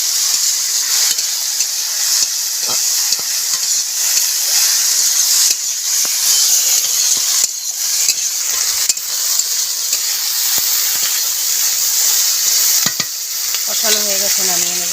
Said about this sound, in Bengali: দিয়ে একটু আদা ভাজা করে নেব